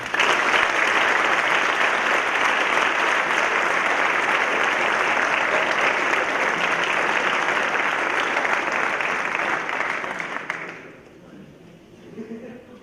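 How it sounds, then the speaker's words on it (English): Loud, sustained applause for award recipients at a high school athletics awards night, a thick wall of clapping from a large audience that holds for about ten seconds, then drops away into quiet room sound. "how about one more round of applause for both our recipients."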